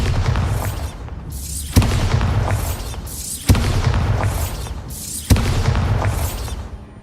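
Bombarda spell explosions in Hogwarts Legacy: three loud, sharp blasts spaced about two seconds apart, each followed by a decaying roar and rumble.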